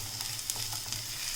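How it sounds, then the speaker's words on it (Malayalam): Finely chopped small onions sautéing in a pan, a brief steady sizzle with a couple of light stirring ticks, soft and close, no voices. "അത് ഇട്ട് വഴറ്റുക."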